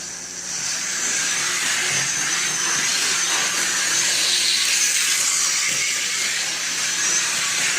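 A model 0-4-0 steam locomotive runs at full speed with a continuous loud hiss and rushing noise, steady and close throughout with no pauses.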